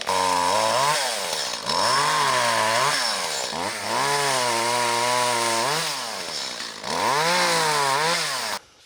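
A large chainsaw cuts through logs for a greenhouse build. It runs loud and close, its engine note rising and falling as it bogs into the wood and revs free again, with no talking.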